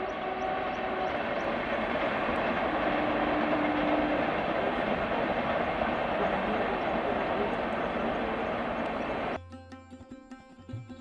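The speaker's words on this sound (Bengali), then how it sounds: "দুপাশ থেকে দুটো ট্রেন পরস্পরকে অতিক্রম করে চলে যাচ্ছে।" Two trains passing each other near Ghatshila, heard from a hilltop as a broad, steady rumbling roar with a faint whine, fairly distant, lasting about nine seconds before it cuts abruptly to a different, quieter scene.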